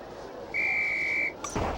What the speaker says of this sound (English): On my whistle, then.